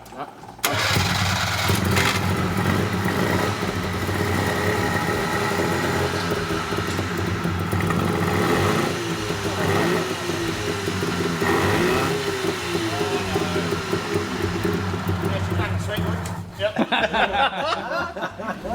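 A small two-stroke kei car engine runs loudly and unevenly, revving up and down in rough bursts, with people talking near it over the clatter.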